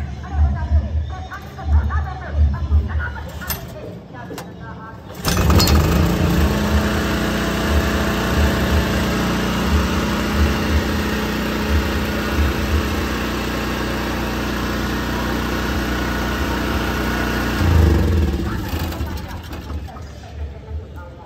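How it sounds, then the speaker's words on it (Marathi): A small generator engine, kick-started after standing unused for two days, catches and runs at a steady, loud, buzzing idle for about twelve seconds before cutting off; people talk before it starts and over the running engine. "हाफ किकला चालू होते जनरेटर"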